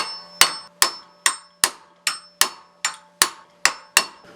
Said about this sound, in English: Once you get that started, then you can take your punch and rail it through.